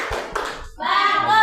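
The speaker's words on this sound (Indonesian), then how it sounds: "Tepuk tangan buat kelompoknya, kelompok 4." A classroom of students claps briefly for a group of classmates during a physics lesson, a short patter of hands quickly followed by voices.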